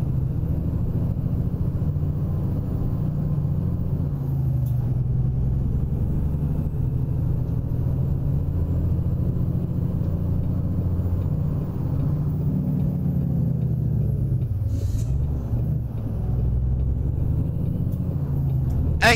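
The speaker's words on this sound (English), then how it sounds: "we've got the truck fired up, 600 horsepower, Cummins ISX 15 underneath the hood" A 600 hp Cummins ISX 15 engine in a truck in American Truck Simulator drones in a steady, loud low rumble while cruising down the road, with no voices over it.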